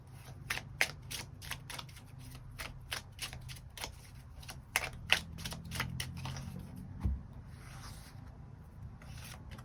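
Tarot cards being shuffled and drawn close up, a quick series of crisp riffling flicks and soft slides that thin out into quieter rubbing and handling, with no talking.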